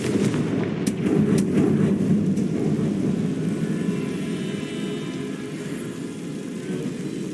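A Confringo spell explosion in the video game Hogwarts Legacy, a loud deep rumbling blast with a few sharp cracks at the start, sustained and slowly fading.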